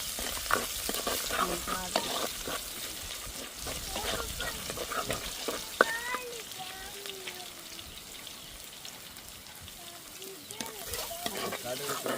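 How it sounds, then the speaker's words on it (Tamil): Fenugreek seeds and crushed garlic frying in hot oil for a fish curry, a soft continuous sizzle with light stirring scrapes and faint clinks, fairly quiet. "எண்ணெய் நல்லா கோச்சிட்டு வெந்தயம் போடுவாங்க மீன் குழம்புக்கு"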